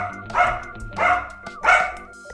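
A dog barks three times in an even rhythm, each bark loud and close, with short quiet gaps between them.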